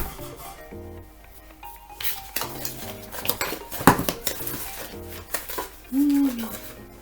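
Wet ingredients for a Jewish apple cake mixed in a bowl: a spoon clinks and scrapes against the dish in irregular strokes, close by, with a brief louder knock and a voice murmuring near the end.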